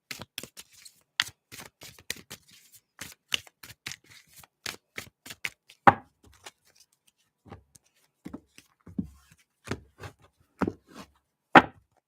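A tarot card deck is shuffled by hand in a quiet room, giving a close series of crisp riffling and slapping bursts, some quick clusters and some single snaps, with short silent gaps between them.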